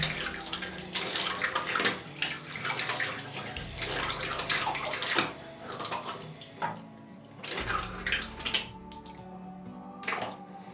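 A tap runs while hands are rinsed under it, a bright splashing stream that swells and breaks as the hands move, close and clear with no talk.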